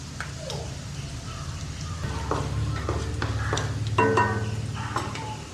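Mustard seeds and dried red chillies fry in hot oil with a steady sizzle, joined by scattered crackles and pops that grow denser and louder midway.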